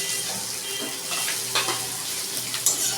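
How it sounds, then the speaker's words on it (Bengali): Ginger and garlic hit onions frying in a pan, giving a steady hiss of sizzling oil with faint stirring clicks throughout. "এবার আমি এর মধ্যে আদাটা আর রসুনটা দিয়ে দিলাম"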